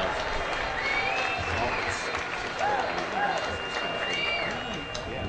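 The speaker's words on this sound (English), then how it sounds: "How about another big round of applause?" Crowd applause at an outdoor polo match, a steady wash of clapping and scattered cheers heard from a distance, with talk layered over it throughout.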